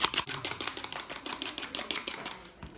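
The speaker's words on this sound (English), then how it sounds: "And then I beat my egg." An egg is beaten in a bowl for salmon patties with a fork or whisk, a quick series of light clicking taps in an uneven rhythm. It is faint and close, with no voices.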